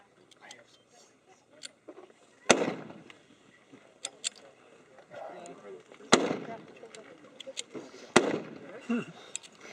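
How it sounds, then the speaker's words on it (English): WWII blowback weapons fired at an outdoor reenactment during a multigun match, with several sharp, loud single shots spaced seconds apart between smaller pops and clatter, as people talk nearby. "Each round fires, cocks and locks, and he goes again"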